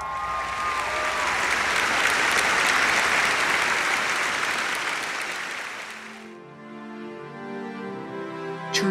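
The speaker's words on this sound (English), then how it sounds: "he received a unanimous standing ovation" A loud, sustained standing ovation of applause fills the House of Commons for the Prime Minister, dense clapping that swells, then fades out after about six seconds as music takes over.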